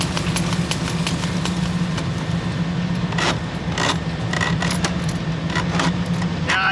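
A drain cleaning machine runs with its cable spinning, making a steady low motor hum and rattle under a continuous whir, with a few brighter metallic clinks breaking through partway.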